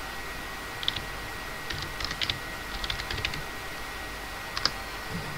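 Soft clicking of computer keyboard keys while typing a message in Animal Jam, with short irregular bursts of light taps and pauses over a low steady hiss, quiet and close.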